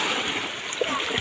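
Someone bathes in cold, clear spring water at an outdoor mountain spring, with continuous close splashing and rushing water and a brief voice mixed in.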